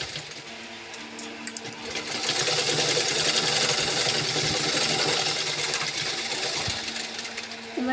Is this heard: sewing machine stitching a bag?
yes